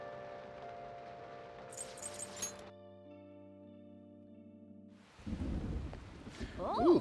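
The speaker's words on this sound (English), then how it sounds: "Ooh, thunder." Thunder in the video game Persona 5 Royal breaks in as a loud, rumbling, rain-like burst after several seconds of soft, sustained game music tones, and it grows stronger toward the end.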